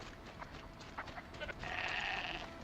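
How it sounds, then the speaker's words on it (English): Faint sheep bleating at a distance in the video game Horizon Zero Dawn, over a soft background hiss, a single wavering call near the end. "That's sheep."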